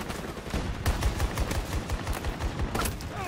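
Dense bursts of automatic gunfire crackle in Battlefield 2042, rapid overlapping shots from several weapons firing almost continuously and loudly.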